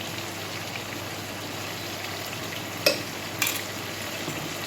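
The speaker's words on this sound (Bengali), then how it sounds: "এইভাবে আদার পেস্টটা দেওয়ার পর এটাকেও ভালোভাবে এইভাবে কষিয়ে নিলাম" Ginger paste sautéing in a pan for a Bengali ridge gourd and fish curry, a low, even hiss of frying with two sharp clinks of a utensil, no speech.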